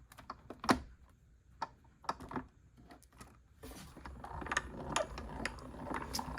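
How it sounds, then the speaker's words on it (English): A hand-cranked die-cutting machine feeds card plates and an embossing folder through its rollers, giving faint, close ratcheting clicks and gear ticks that grow denser toward the end. "Cranking it through."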